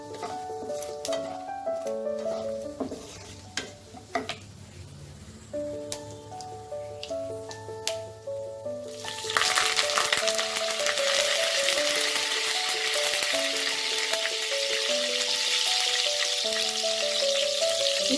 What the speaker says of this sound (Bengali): সেই কারি পাতাগুলো দিয়ে দেবো।